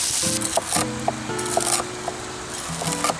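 Peppers sizzle in a pan over a campfire after bacon has been cooked, with loud crackling spurts and tonal hissing that rise and fall through the short stretch.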